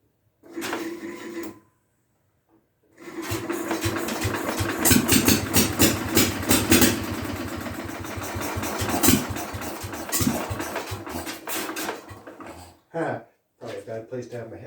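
A Briggs & Stratton 23D engine on its first test run starts up and runs loud and close for about ten seconds with a steady chugging rhythm, then cuts out, sputters briefly and falls quiet.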